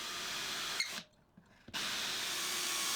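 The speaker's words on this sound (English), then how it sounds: "After starting the hole with a regular drill, I'll continue with this long bit" A cheap long drill bit bores through wood for a hand-carved lamp base, a steady broadband whir that cuts out into near silence for under a second before resuming just as loud and continuous.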